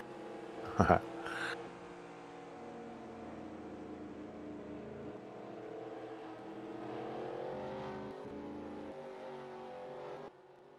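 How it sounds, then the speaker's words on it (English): A field of 25-plus race cars rolls down pit road at Michigan, a steady low engine drone of many cars idling past, with a sharp brief clatter early on. "Now we'll watch this 25-plus car grid roll down pit road here."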